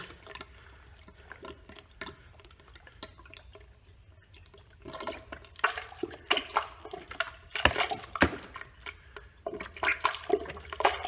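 Oil additive poured from a bottle into the engine of a Hummer H2, a liquid trickling and glugging in bursts that grow louder and more irregular over the second half, with no talking.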